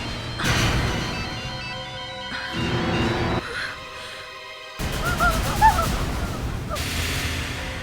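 A mobile phone ringtone plays in a tense TV horror drama scene. It is a bright, warbling electronic melody that rises out of loud, abruptly cut dramatic music and sound effects.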